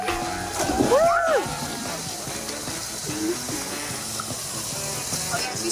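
A child's cannonball splash into a swimming pool, one loud splash near the start followed by sloshing water, with excited voices and shouting throughout.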